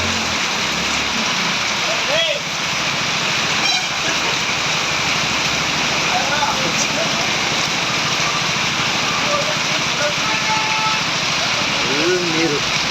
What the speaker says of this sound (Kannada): ಫುಲ್ ನೀರು, ಫುಲ್ ಮಳೆ